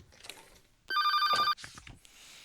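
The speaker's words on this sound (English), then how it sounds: "the moment I heard the ringtone, I remembered the name of the device that made that sound" A phone ringtone from the game The Seven Days I Spent With You chirps in one short, bright electronic burst, faint and quiet beside soft background sounds.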